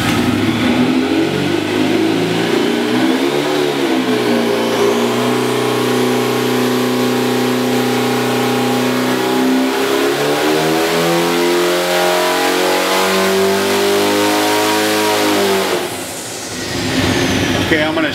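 A 2276cc turbocharged engine on a dynamometer revs up in a long sustained pull, its loud droning tone climbing steadily in pitch, dipping and rising again before winding down near the end.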